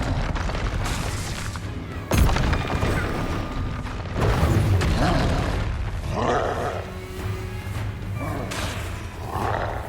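A wizard's Expelliarmus disarming spell cast in the video game Hogwarts Legacy, heard as a loud booming magical blast with thuds and crashes over a steady rumbling game soundtrack.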